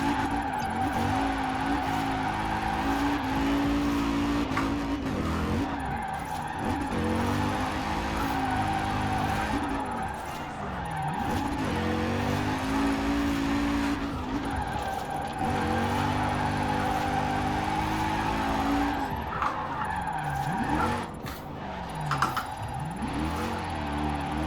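A Mercedes 280 SL in Forza Horizon 4 loses traction and drifts, its engine droning and revving up and down in repeated swells while tires squeal through the slides, continuous and close.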